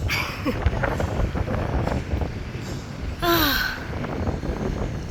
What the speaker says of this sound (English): Wind's starting to pick up.